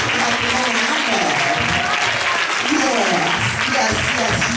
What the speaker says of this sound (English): So can you clap and put your hands together for my husband, my mother?